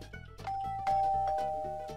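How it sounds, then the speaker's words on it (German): A bright two-tone electronic chime rings out and sustains, like a doorbell, over a soft musical background, in the video game Minecraft. "Hast du etwa meine Klingel kaputt gemacht?"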